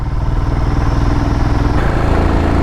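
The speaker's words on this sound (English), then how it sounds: "Just trying to squeeze that throttle on to make the most out of this 411cc Royal Enfield Himalayan engine." The single-cylinder 411cc engine of a Royal Enfield Himalayan labours loudly and close up a steep hill in Nepal, a steady pulsing thump under load that shifts in pitch partway through as the throttle is worked.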